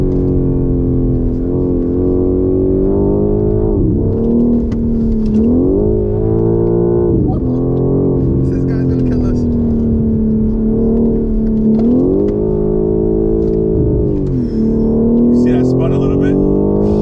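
BMW M4 (G82) on cold Pirelli tyres accelerating hard with the rear slipping: a loud, continuous engine roar from the cabin, revs surging and dropping repeatedly as traction comes and goes.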